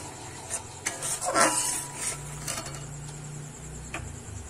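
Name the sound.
stir-frying kofta curry masala in a pan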